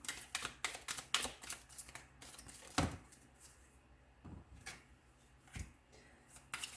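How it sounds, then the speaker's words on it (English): Rapid riffling and flicking of tarot cards, several bursts of crisp papery clatter with brief pauses between them, close by. "If you guys don't like shuffling, please fast forward."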